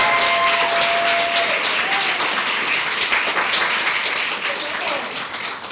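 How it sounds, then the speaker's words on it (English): A school board meeting audience gives a round of applause honoring a high school girls basketball team, loud steady clapping that fills the room and tapers slightly at the end, with a brief tone near the start. "Round of applause."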